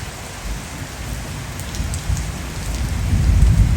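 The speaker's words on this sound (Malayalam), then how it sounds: "ഈ മഴ എല്ലാവർക്കും കിട്ടിയോ?" Steady rain pours down during a thunderstorm, a broad close hiss, while a deep rumble of thunder swells louder toward the end.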